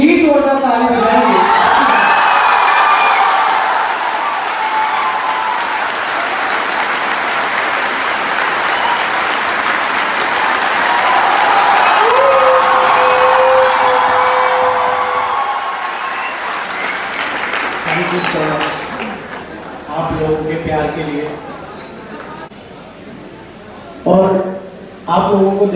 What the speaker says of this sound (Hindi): एक बार आप सभी हमारे लिए अपने लिए इतनी जोरदार ताली बजाएंगे